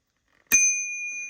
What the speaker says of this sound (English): I picked him up this little bell dinger